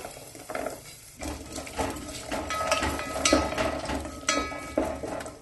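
Chopped carrots and beans are being sautéed with ginger and green chili in a pan, giving steady scraping and stirring clatter with a soft sizzle underneath, close and moderately loud, with no talk.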